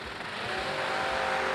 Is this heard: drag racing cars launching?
yes